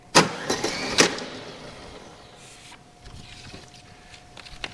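A Better Pack 555eS electric tape machine dispenses a 37-inch strip: two sharp clicks, then a faint, steady motorised whine that runs for a few seconds, ending with a light knock.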